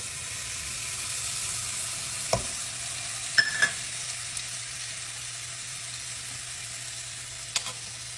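Butter, brown sugar and flaky salt stirred together in a saucepan over medium heat, a soft steady sizzle with a few light spoon clicks against the pan, close and alone.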